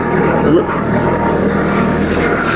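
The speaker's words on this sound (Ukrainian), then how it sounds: "Включаємо автопілот і трактор починає свій рух по заданій траєкторії" A Kubota tractor driving itself on a Topcon autopilot gives a steady, loud engine drone with a constant low hum throughout, close by and without pauses.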